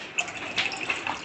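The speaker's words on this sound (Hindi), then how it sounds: "उसके बाद हम इसमें पानी डाल देंगे ताकि ये कीमा थोड़ा सा गल जाए।" Water is poured into minced beef in a cooking pan, making a short burbling gush with splashy bubbling, close and clear with no talking.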